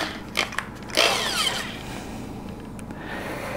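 A power drill drives small screws while a silicone rubber mold is being made, giving a couple of short clicks and then a brief whirring burst of about half a second, followed by quieter handling noise.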